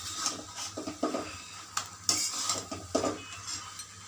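A spoon scrapes and knocks repeatedly against a pan while a tomato mixture is sautéed for a Bengali dish, with rhythmic stirring clatter over a faint background sizzle.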